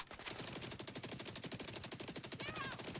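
Rapid automatic fire from the Slingshot SMG in The Division 2, a dense, steady burst of gunshots running the whole stretch, loud and close with no talking.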